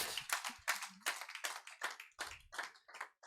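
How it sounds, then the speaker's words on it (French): A church congregation at a Montréal worship service claps in a quick, distinct run of about ten sharp hand claps, fairly quiet and close, with no talking. "Donnez une main d'acclamation à Dieu."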